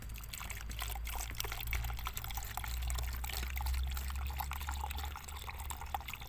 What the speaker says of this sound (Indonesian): tuangkan nitronya seperti ini